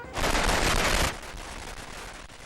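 Loud burst of crackling, rapid bangs from fireworks at celebrations honouring the late Queen alongside a 70-gun salute, dense for about a second then fading into a lingering rumble and scattered pops.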